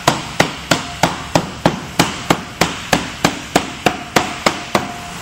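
A rubber mallet tapping a glazing bead into a fixed glass window frame, about fifteen evenly spaced sharp knocks at a steady rhythm, loud and close with no talking.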